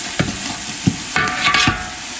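Chopped onion fries in olive oil in a pan, a steady close sizzle broken by several distinct scraping stirs of a spoon against the pan.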